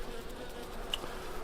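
Honey bees buzzing at the entrance of a beehive, a steady close-up drone of many insects with no talking over it.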